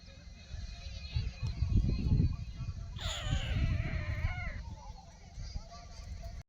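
Goats bleat in a farm field, with one clear, wavering bleat rising near the middle above steady low background noise and murmuring voices.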